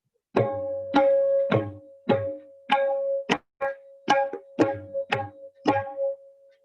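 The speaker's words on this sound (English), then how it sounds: "This is how it will sound on tabla." Tabla playing Jhap tal, about a dozen distinct resonant strokes in an uneven grouped rhythm, with a sustained pitched ring between beats and deep bass strokes on some hits, clear and close with no talk.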